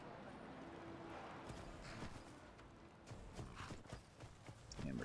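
Horse hooves clip-clop steadily in Skyrim, a medieval fantasy video game, walking at a moderate pace over ground, close and clear against a low ambient background.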